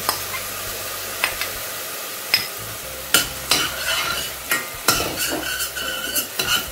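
Small shrimp stir-fried with garlic and shallots in a pan, with a steady sizzle under repeated scraping and clanking stirs of a utensil, several sharp knocks spaced through the stretch.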